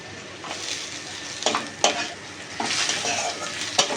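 Chopped onions fry in butter and oil in a pan, a steady close sizzle punctuated by scraping stirs and a few sharp clinks of a spatula against the metal, with no talking.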